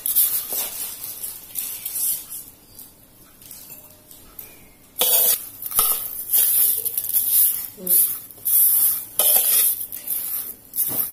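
Pandan syrup mixture for Bugis Makassar kaddo boddo being stirred in a pot, with scraping, clinking strokes that come in bursts and grow louder and more continuous in the second half, no talking.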